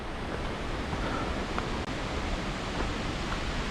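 Waterfall on a hike along the Middle Fork of the Snoqualmie River near North Bend, Washington, heard as a steady, broadband roar of rushing water with no talking.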